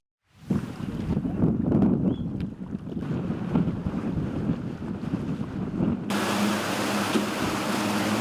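A new custom-built rescue boat for the Odesa region emergency service's divers runs on open water, its engine drone mixed with heavy wind buffeting and splashing, steady and loud after a sudden start.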